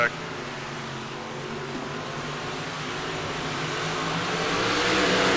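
Big block modified race cars on the Eldora dirt track roar steadily and grow louder toward the end, a continuous rumbling drone with faint voices mixed in.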